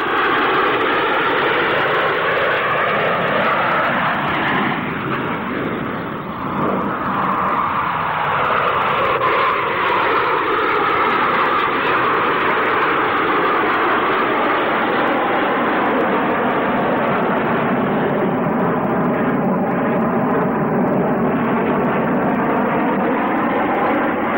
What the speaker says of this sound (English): A perfect formation of scimitars executing the twinkle roll.